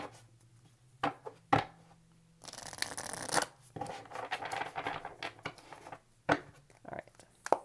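Tarot cards being shuffled by hand during a reading: several short, crisp riffling and slapping bursts with one longer continuous shuffle in the middle, close and fairly quiet, with no talk over it.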